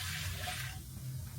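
Water pours steadily into a cooking pot, four glasses measured in to boil two glasses of rice, a continuous close splashing fill with no talking.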